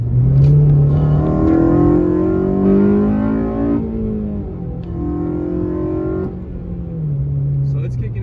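A Honda car engine with its Hondata Flashpro tune removed revs up, the pitch climbing steadily through the range toward the 6,000 RPM VTEC crossover, then dropping and rising again in loud, close pulls.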